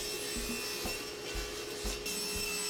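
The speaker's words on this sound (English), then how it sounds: "I'll begin by cutting all my pieces down to size." Wood pieces for a DIY speaker box are cut with a saw, producing a steady rasping rub with a few stronger strokes, close and alone without any talking.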